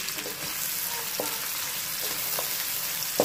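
Onions fry in oil left over in the pan from cooking bhindi masala, a steady close sizzle with a few soft stirring taps throughout.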